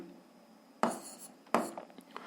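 A pen or pencil writes on paper while an algebra equation is worked out, giving two short scratchy bursts of strokes with quiet gaps between, close and faint.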